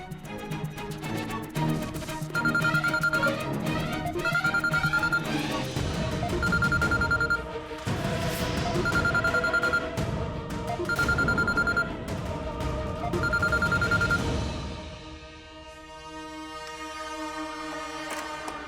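A telephone rings in repeated bursts of a bright electronic tone at a steady rhythm over a tonal musical backdrop, then stops as the music continues alone.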